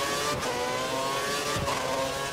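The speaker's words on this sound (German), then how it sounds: "Der Motor hört sich nicht gut an." A Formula 1 car's engine with engine problems in the racing game F1 2013 drones steadily, its pitch wavering slightly over a couple of seconds, with no voices.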